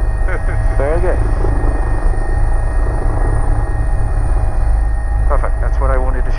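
Steady helicopter rotor and engine drone from inside the cockpit during an automatic landing training flight, loud and continuous throughout, with brief bursts of radio or intercom chatter near the start and end.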